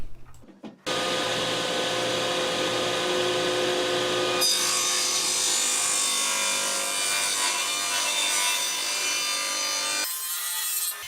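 A saw blade cuts shallow passes into a wooden board, giving a loud, continuous grinding whine that shifts to a harsher, brighter tone partway through and stops near the end.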